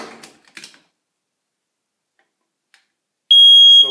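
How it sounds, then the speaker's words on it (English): A smoke alarm in a rented flat is tested, starting with a few faint clicks and taps before a loud, piercing continuous electronic beep begins near the end, close by and alone. "Smoke alarm, as you can see, working."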